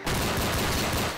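Gunfire from a shooting video game plays as a dense, continuous burst of rapid shots lasting about a second, loud and steady with no talking over it.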